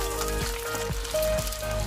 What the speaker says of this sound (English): When the color of the batter of chicken becomes yellowish, turn it over and keep frying until its color gets brown.